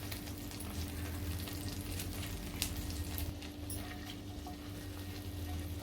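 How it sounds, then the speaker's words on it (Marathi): Garlic sautés in butter in a pan on a gas stove, a faint, steady low sizzle with occasional soft stirring sounds throughout. "आता आपण लसूण परतूया बटरवरती"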